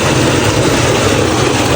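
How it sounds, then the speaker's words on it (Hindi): A village tubewell pump engine runs at full tilt, a loud continuous broadband roar with a low throbbing rumble, close by and steady throughout, with no speech heard over it. "ये ट्यूबवेल है,"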